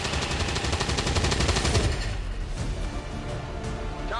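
Loud rapid automatic gunfire in the video game XCOM 2, a fast rattling burst for about two seconds, then a heavy rumbling tail of echoing shots and impacts.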